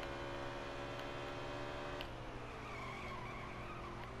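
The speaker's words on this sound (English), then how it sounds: "My car is sliding." A car sliding with skidding tires in NASCAR Heat 3 produces a faint, sustained tire squeal over a steady engine drone, with a few light ticks partway through.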